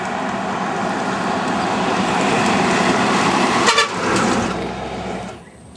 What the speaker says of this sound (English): The ocean bus coming around the corner.